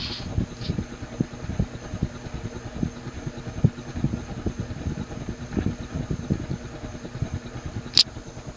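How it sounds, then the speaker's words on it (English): A Century CF-36 antique 36-inch ceiling fan turns on its low setting at about 100 RPM, giving a faint, steady low mechanical hum and soft rhythmic thrum with a brief click near the end. "I want to say this thing's doing about maybe 100 RPM on the low."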